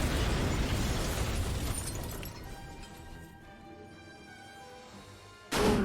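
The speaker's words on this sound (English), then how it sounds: "Foe Bomb Box detonates." A Bomb Box detonates in the Manamon 2 video game, a loud explosion that fades slowly into quiet, followed by another abrupt burst near the end.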